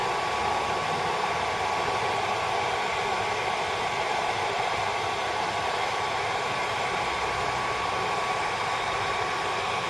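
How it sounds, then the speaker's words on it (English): A hairdryer on its lowest setting blows a constant, even whoosh at close range, warming the glue under a motorcycle tank pad. No voices are heard. "If it starts to go tight, get the hairdryer in there and it'll start breaking that glue"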